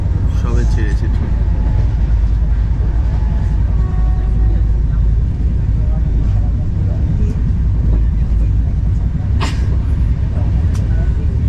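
Inside a coach of the Gatimaan Express between Hazrat Nizamuddin and Agra Cantonment, the train rolls just after departure with a loud, continuous low rumble and rattle, scattered clicks and a few sharp knocks over the steady drone.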